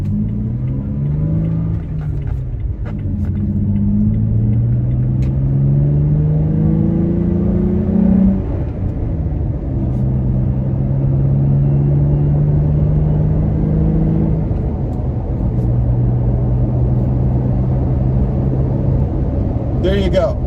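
A 2020 Toyota Tacoma fitted with an S&B cold air intake pulls away from a stop up to highway speed, a steady loud engine drone with rising pitch through gear changes, heard from inside the cab.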